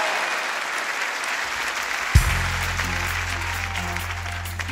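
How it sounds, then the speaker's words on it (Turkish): A television studio audience claps loudly for the orchestra on a Turkish music show; the steady applause carries on as low, sustained instrumental tones enter about halfway through. "Muhteşem orkestraya kocaman bir alkış."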